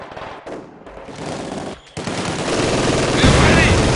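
Rapid machine-gun bursts and overlapping gunfire from the Company of Heroes 2 strategy game fill the scene loudly and continuously, with battlefield noise and brief voice lines mixed in.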